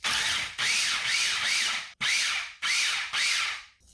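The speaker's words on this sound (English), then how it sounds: "the whole jalapeno just cut into some big chunks and thrown in the food processor. Now we're just gonna pulse this a few times" A food processor pulses onion and jalapeno chunks in short whirring bursts, five loud grinding pulses with brief gaps between them and no talk.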